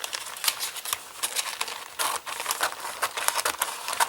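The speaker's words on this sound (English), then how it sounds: "I guess I'll just use my scissors" Scissors cut through paper for a journal page in a series of close, crisp snips and crinkles with an uneven rhythm, alone and without talk.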